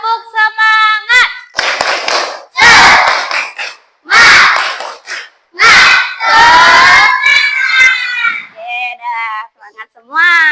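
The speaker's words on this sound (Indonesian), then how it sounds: "Ayo, tepuk semangat." Classroom group clapping chant with shouting during an ice-breaking activity: loud, rhythmic bursts of children clapping in unison alternate with shouted and sung chant phrases, separated by brief silent gaps.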